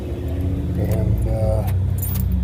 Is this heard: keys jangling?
yes